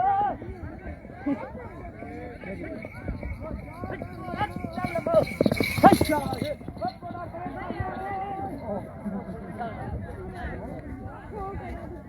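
Hooves clatter at a horse race among a noisy crowd of voices, building to a louder burst midway, then settling into busy background chatter.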